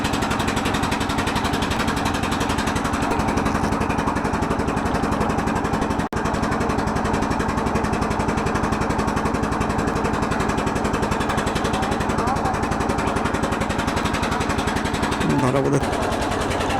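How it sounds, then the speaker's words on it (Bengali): Trawler boat engines on a river at a busy shipping area make a loud, steady mechanical chugging that fills the scene and persists without a break, with a faint voice briefly audible underneath. "যার ট্রলারের সাউন্ডের জন্য সাউন্ড শোনা হচ্ছে না।"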